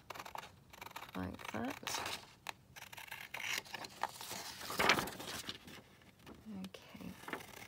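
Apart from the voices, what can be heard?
cutting around a torn-out paper page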